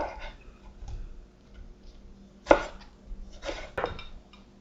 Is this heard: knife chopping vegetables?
yes